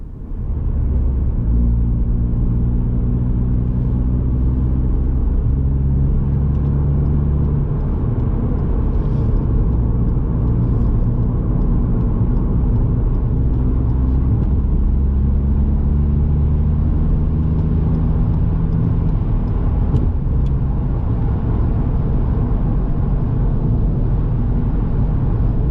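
A car travels at steady speed along a dual carriageway, giving a continuous loud engine and road-tyre rumble with steady drone tones and no gaps for the whole stretch.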